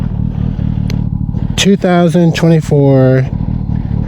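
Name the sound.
Kawasaki Ninja ZX-10R motorcycle engine left running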